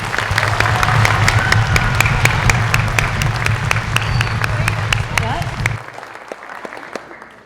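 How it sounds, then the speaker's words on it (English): Audience applause at a school orchestra Halloween concert, loud sustained clapping with a low hum beneath that cuts out near the end, leaving the clapping to thin and fade. "So please, a round of applause for them."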